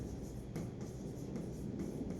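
Chalk scratching across a classroom board during a Class 10 maths lesson on the elimination method, a steady continuous rasp with faint periodic strokes, fairly quiet and heard alone without talk.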